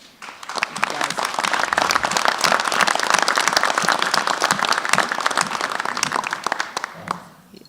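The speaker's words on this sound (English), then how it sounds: "you deserve a round of applause" An audience at a legislative session applauds students nearing graduation, loud sustained clapping from a crowd that swells quickly and holds steady for several seconds before fading.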